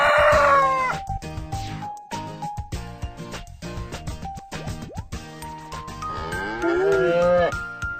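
A cartoon cow moos amid busy farmyard background music, with a rising low call near the start and another long, swooping moo toward the end, loud and close, with no talk.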